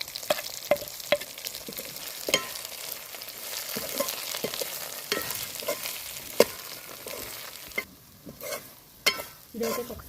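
Coconut chili powder is stirred and fried in hot oil for a stuffed brinjal fry, giving a continuous soft sizzle broken by repeated scraping clicks of a spoon against the pan, close by.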